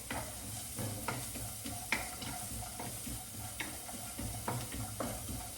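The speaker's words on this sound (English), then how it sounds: "Get your carrots in fast so you don't burn your oil. That already smells so good with the sesame oil." Carrots fry in hot sesame oil for Korean beef fried rice, giving a faint steady sizzle with occasional light stirring clicks, heard nearby and free of speech.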